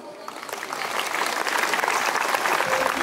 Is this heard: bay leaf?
no